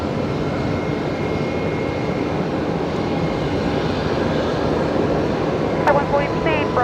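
Airliner engine roar at Brisbane Airport, a steady broadband rumble holding loud and constant throughout, with a brief radio-like tone near the end.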